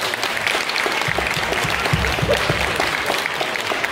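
An audience at a festival breaks into steady clapping, a dense continuous patter of many hands heard close and loud for the whole stretch, without talk over it.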